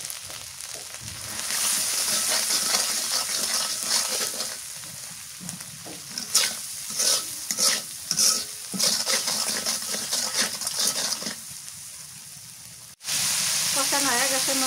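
Masala spices with turmeric powder and salt are stirred and sautéed in a pan for a raw banana curry with egg, giving a continuous sizzle with scraping stir strokes and brief pauses, then a sharp break near the end.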